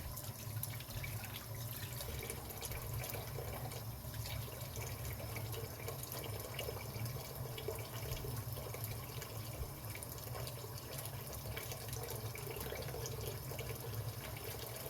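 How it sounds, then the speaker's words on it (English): Tap water runs into a kitchen sink while hands are wetted during pizza crust preparation, a faint, steady splashing stream with small irregular drips, close and with no talk. "I'm going to wet my hands here for a minute."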